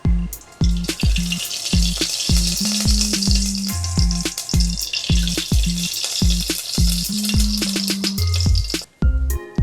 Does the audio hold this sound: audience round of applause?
no